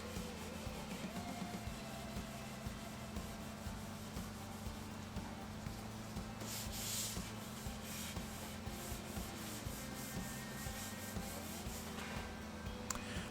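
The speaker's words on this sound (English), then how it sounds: "we're now going to rub it down again with 4/0 steel wool and then tack that off" Fine 4/0 steel wool rubs down a stained wooden table top, producing a soft, continuous scratchy scrubbing in steady back-and-forth strokes, close and fairly quiet with no talking.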